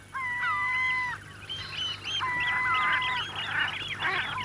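Male common shelducks fighting and calling on a North Sea shore, a run of loud honking, goose-like calls in two main bursts, fairly close, with a few overlapping cries and no talk.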